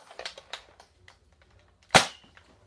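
A toy Nerf gun fires with one sharp snapping pop, preceded by a few quieter clicks and handling taps, close and fairly loud in a quiet room.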